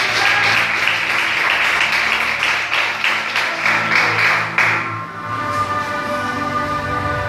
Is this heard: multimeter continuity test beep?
no